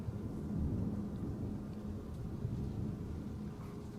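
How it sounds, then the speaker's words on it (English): Low, sustained rumble of thunder during a thunderstorm at an old Victorian mansion, a steady broad roll that swells slightly early on and continues without any voices. "in this old Victorian mansion during a thunderstorm with loud thunder and lightning"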